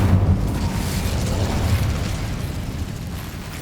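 A fiery Incendio spell blast erupts in Hogwarts Legacy, a loud sustained burning roar with a heavy low rumble that fades slowly over a few seconds, with no voices.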